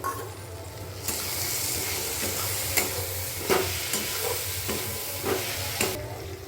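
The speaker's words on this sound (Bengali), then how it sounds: "মশলাটা কষানো হয়ে গেছে, এবার সবুজ মটরটা দিয়ে দিলাম" Green peas go into a sizzling fried spice paste and are stirred, with the frying hiss jumping up as they land and spoon scrapes and clinks coming every second or so.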